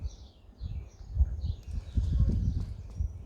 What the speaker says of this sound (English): Don't listen to your sheep stamping next to you.